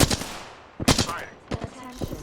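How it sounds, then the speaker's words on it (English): Gunfire in a video game as an enemy squad opens up, sharp bursts arriving in clusters at a moderate distance, with some talk in the background. "A second squad is firing on us."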